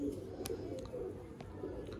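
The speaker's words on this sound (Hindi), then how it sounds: "हनी भाई, इस कबूतर की क्या ब्रीड है" Domestic pigeons kept by fanciers in Sialkot, Pakistan coo softly on a rooftop, low throaty repeated calls close by over faint background noise, with a few light clicks.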